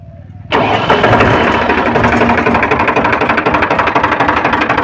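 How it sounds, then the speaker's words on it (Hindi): A Powertrac 439 DS tractor engine, under repair for tappet and valve clearance settings, cranks and catches abruptly, then settles into a loud, steady, rhythmically pulsing diesel run close by. "तो बस हम स्टार्ट करते हैं ट्रैक्टर को और उसके बाद दिखाते हैं कि अभी इसका साउंड कैसा है"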